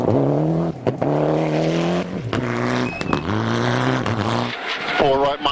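A rally car on a loose gravel road, with brake problems, roars through repeated gear changes, its engine note climbing and dropping in steady cycles, close and loud, while a commentator talks over it.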